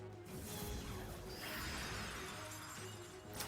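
Shadow Chill move effect in the video game Pokemon XD, a continuous icy shattering, crackling wash with a sweeping whoosh, dense and sustained throughout with no speech.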